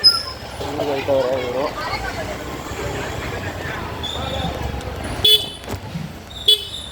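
Car moving off through busy street traffic, with a steady broadband road rumble throughout, a faint horn-like tone midway and two short sharp bursts near the end, voices faintly in the background.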